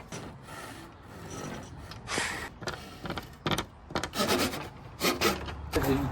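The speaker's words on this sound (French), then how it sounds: "Alors il coupe tout à la scie." A hand saw rasps through wood trim in irregular strokes, close by, with short pauses between bursts of cutting, during a camper van renovation.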